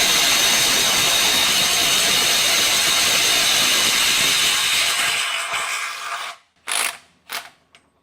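Milwaukee Gen 2 M12 FUEL stubby impact wrench on an XC 5.0 battery at speed 3, over-torquing a bolt: a long, loud, steady hammering whir that cuts off, then two short bursts of rattling impacts.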